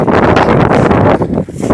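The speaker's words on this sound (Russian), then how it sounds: "Ветер поднялся." Wind buffets the microphone in rough, rumbling gusts, loud and close, with no other clear sounds, by a river while fishing in March.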